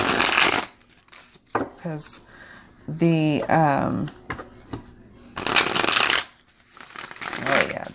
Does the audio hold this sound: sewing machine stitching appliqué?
no